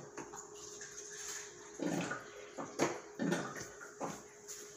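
Water poured from a glass into a pot of rice for yellow rice, several short splashing gurgles in bursts, close and fairly quiet with no talking.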